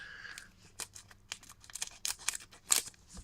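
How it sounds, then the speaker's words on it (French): Scissors snip repeatedly in short, irregular crisp cuts at close range, with quiet gaps between snips and no talking. "Oh là, c'est le ciseau du bled ça."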